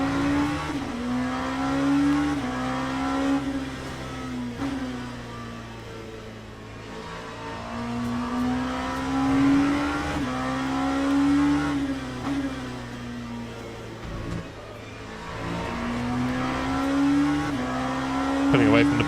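A race car engine in the Le Mans Ultimate sim racing game revs up and drops away in repeated cycles as the driver lifts off and coasts, with tyre noise and a voice speaking over it.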